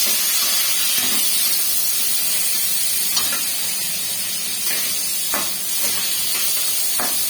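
Cumin, bay leaf, tomato and onion frying in hot oil give a loud, steady hiss and sizzle, close by, with a few brief clinks from stirring and no voices.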